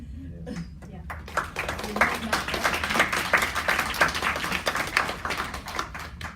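Audience applause closing a panel session at a campaign launch event against gender-based violence, a sustained patter of many hands clapping that swells after a quiet start and holds steady to the end, with a voice briefly audible at the beginning.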